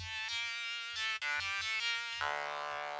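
A buzzy, bright Digitone 2 synth upper-layer swarmer lead plays a sequence of held chords and notes, dense with harmonics, ending on a sustained tone; no talking.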